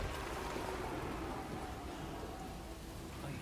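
Steady rain falls in the video game Death Stranding 2, a soft, even hiss of drops on surfaces that holds at a low level from start to finish, with no voices.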